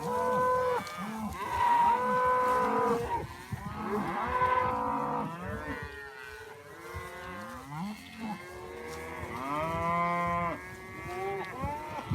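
Several cattle moo loudly and repeatedly, overlapping one another, as a herd is moved to a fresh pasture; the bellows come close and strong with no talking.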